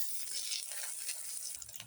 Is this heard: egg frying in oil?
yes